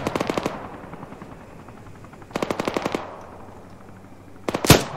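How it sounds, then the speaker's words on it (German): In Arma 3, a tank opens fire: three quick bursts of rapid automatic fire spaced a couple of seconds apart, then one sharp, loud blast near the end, with no voices. "Der Panzer, der da schießt."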